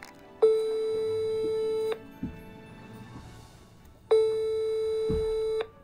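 A telephone line tone sounds as two long steady beeps separated by a pause, loud and close, with faint softer tones between them and no talk.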